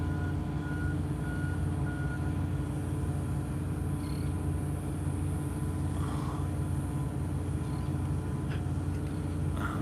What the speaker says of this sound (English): the mosquito truck is here, and it is spraying quite a bit of spray here